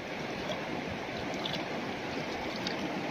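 Cold water in a river stream in Rishikhola rushes steadily in a broad, continuous wash with no breaks, close by and moderately loud, with no voices.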